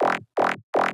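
Three identical wavetable-synthesized bursts, each about a quarter second long with a bright filter sweep, evenly spaced with short silences between.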